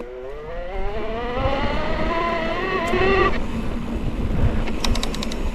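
Specialized Levo/Kenevo e-bike motor driven by a FlipSky controller whirs and whines, rising steadily in pitch as it accelerates, loud and close, with a few faint clicks near the end.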